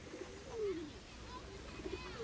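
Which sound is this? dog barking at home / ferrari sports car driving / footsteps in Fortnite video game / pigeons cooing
pigeons cooing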